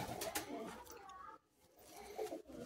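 Flying pigeons for sale coo and murmur close by, soft throaty calls that briefly drop away before resuming.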